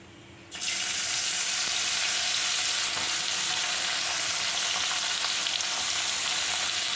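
Chopped onions hit hot oil with spices for a prawn do payaza, bursting into a loud, steady, close sizzle after a brief quiet start and holding at full intensity throughout, no voices.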